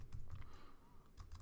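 Quiet, close keystrokes on a computer keyboard tap out a few short clusters of clicks with a brief pause between them.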